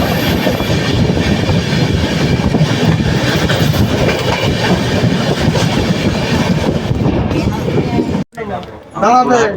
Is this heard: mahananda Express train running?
yes